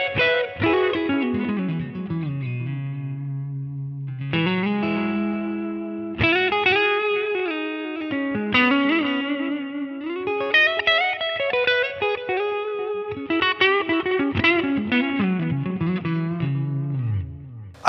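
An electric guitar played through a Line 6 Helix modeler with distortion and effects, sustained chords and melodic phrases ringing with reverb, loud and alone with no talk.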